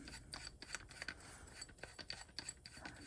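Threaded parts of an Edgun Leshiy 2 air rifle's air tank assembly being unscrewed by hand, giving close, quiet scraping and rasping clicks in an irregular run with no talking.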